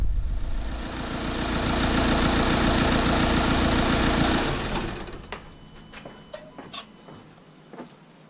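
VW T5 2.0 diesel bi-turbo campervan engine idling with a steady mechanical clatter for about four seconds, then shutting off, leaving faint clicks and small knocks nearby.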